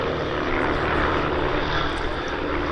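Team Raven propeller aircraft fly in delta formation for an underside pass at a Duxford summer air show, their engines making a loud, sustained droning roar close overhead with no talk.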